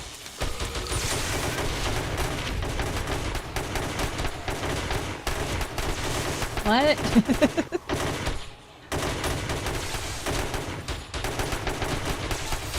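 Loud, dense gunfire from the video game 7 Days to Die, with rapid automatic bursts and heavy shots running almost continuously, a brief pause near the end, and a voice speaking once over it.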